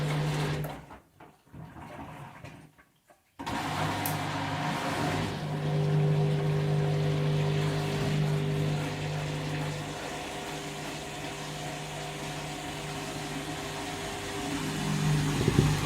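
A Candy washing machine runs the final 400 rpm spin of a delicate anti-allergy 40 cycle: after a brief quiet dip, a steady motor hum and whirring drum settle in, holding fairly even to the end.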